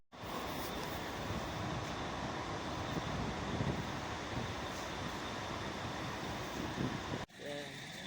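Cold wind blows outdoors at a Jordan border crossing, a steady broadband rush buffeting the microphone that cuts off briefly near the end and then resumes.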